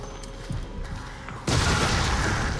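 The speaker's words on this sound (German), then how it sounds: "Da muss der Granaten her" A grenade explodes in the Resident Evil 7 game, a sudden loud broadband blast that cuts in partway through and keeps roaring, following quieter in-game ambience and shuffling.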